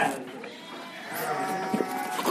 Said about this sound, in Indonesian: Domba berot lah.